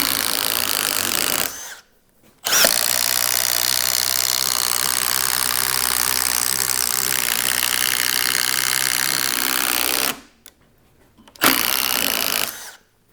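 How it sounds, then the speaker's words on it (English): A Milwaukee drill spins a 1-inch double-flute auger bit into wood, giving two sustained, loud bursts of drilling, one of about eight seconds and one brief, separated by near silence. "Let's drill a couple more."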